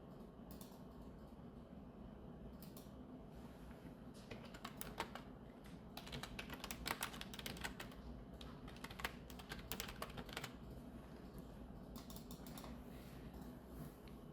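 Computer keyboard presses while working in Illustrator, including Alt and Ctrl+D shortcuts: faint, close clicks in irregular bursts over a steady low hum.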